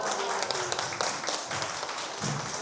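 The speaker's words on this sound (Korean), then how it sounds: "박수." Scattered applause from students at a lecture, a brief patter of hand claps that is moderately loud and fairly close, with voices mixed in underneath.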